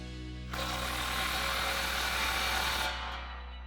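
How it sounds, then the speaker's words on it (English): A 15mm socket tightens a 3-inch exhaust clamp on a Ford F-150 Corsa Xtreme single exhaust, giving one continuous mechanical whir of about two and a half seconds that starts and stops abruptly, close and moderately loud. "grab a 15mm socket to tighten it down"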